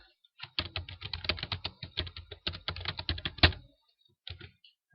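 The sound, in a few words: typing on a computer keyboard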